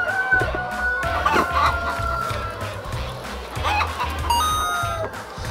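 Chickens on a busy egg farm clucking continuously, with overlapping calls and short bursts of squawking and rustling, fairly close.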